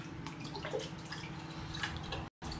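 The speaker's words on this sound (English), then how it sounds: "So you just dunk your fish in the water a couple of times." A cleaned trout is dunked in water, producing soft sloshing and dripping over a low steady background, with a brief dropout near the end.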